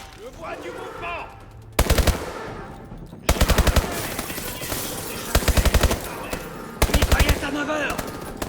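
Bursts of rapid machine gun fire in the Call of Duty: Advanced Warfare video game, several loud, sharp volleys of a second or so each, separated by short gaps, with game voices speaking in the background.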